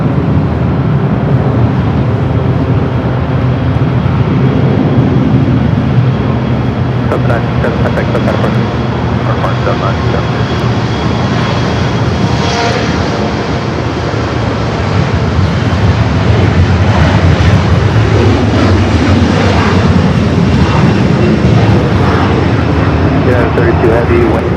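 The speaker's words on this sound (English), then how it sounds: "Next arrival here on the north side, JetBlue Flight 1573, coming from Newark in A321" JetBlue Airbus A321 arriving from Newark at LAX, a loud continuous jet roar that swells and lingers as the aircraft passes nearby, with someone talking over it and radio chatter in the background.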